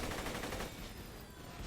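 A rapid burst of automatic gunfire in the video game Borderlands 2, loud and continuous for about half a second, then fading into a dense, noisy rumble.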